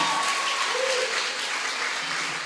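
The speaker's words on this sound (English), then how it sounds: "give them a round of applause" Steady applause from a crowd at a college graduation ceremony, a continuous even wash of clapping that holds at a constant level from start to finish.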